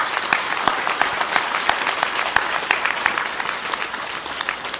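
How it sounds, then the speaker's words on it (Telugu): A large audience at a spiritual gathering claps loudly and steadily for the volunteers, dense continuous applause with sharp individual claps throughout, no voices on top. "వాలంటీర్స్ గట్టిగా చప్పట్లు కొడదాం మనం అందరం కలిసి"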